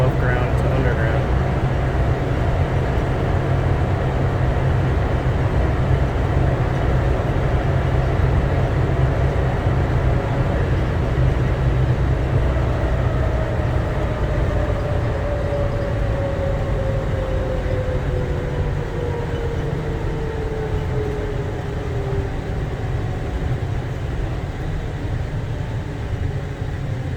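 Las Vegas airport train running between above-ground track and an underground tunnel, a loud, constant rumble with a high whine that slowly glides downward partway through.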